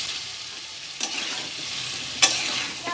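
Boiled pasta is stirred into tomato sauce in a hot pan, making a soft, steady sizzle. A few sharp scraping clinks of the utensil sound against the pan, close and clear.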